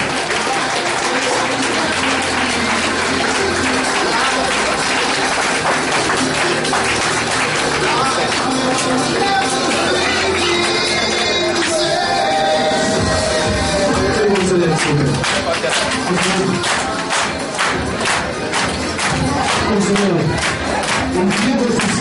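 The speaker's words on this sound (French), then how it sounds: "Tous vos applaudissements." An audience at a QNET training session in a hotel breaks into loud, sustained crowd noise with clapping and cheers for a guest speaker, continuing for the whole stretch with voices mixed in.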